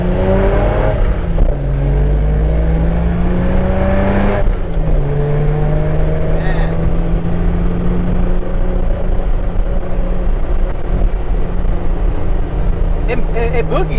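Stock 1973 Datsun 240Z with a five-speed shifter accelerating on the road, its engine note rising and shifting through gears in a steady loud drone, with people talking over it inside the car.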